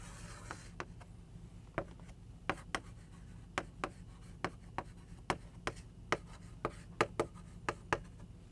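Chalk or marker taps and strokes on a lecture board, a series of crisp, irregular clicks spaced through a quiet room, fairly close and faint.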